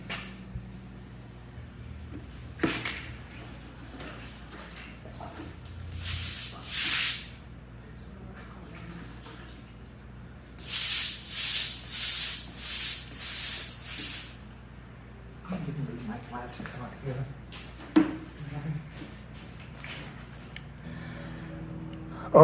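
Bursts of hissing and scraping as a garage concrete floor is roughed up around an oil stain before epoxy coating, several rhythmic rough strokes mid-way, then quieter scuffing and knocks with long near-silent gaps.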